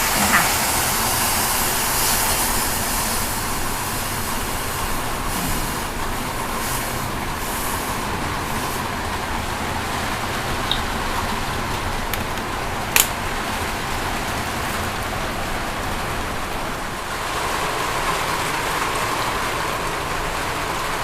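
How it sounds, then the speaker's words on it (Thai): Tamarind water heating over a high flame, a continuous dense hiss and bubbling rumble that stays loud and even throughout, with a couple of faint clicks. "น้ำก็เริ่มเดือดแล้วนะคะ"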